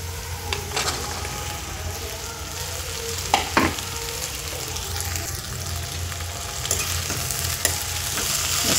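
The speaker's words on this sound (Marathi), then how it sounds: "मस्त परतून घ्यायच्या भेंड्या, मिक्स करून घ्यायचं" Okra stir-frying in a pan for a fasting-day dish, a constant loud sizzle with occasional scrapes and taps of a spatula, close and uninterrupted by speech.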